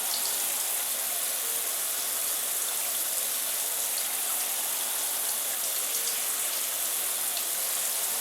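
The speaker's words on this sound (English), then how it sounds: "A nice warm shower" A shower running in the video game Parasite Eve 2, a constant, even hiss of spraying water that holds unchanged throughout, with faint patter on a surface and no voices.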